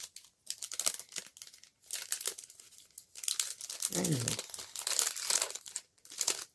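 Plastic packaging from an Amazon order of cutting dies crinkles and tears in repeated close bursts as it is unwrapped, with brief pauses between handfuls.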